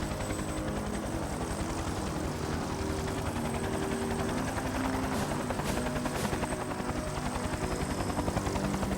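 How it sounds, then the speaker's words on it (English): Soviet military helicopters in the video game Gorky 17, a continuous whirring rotor drone with a steady buzzing engine tone, moderately loud and unbroken, with no speech over it. "Alright, those are, I think, Soviet choppers"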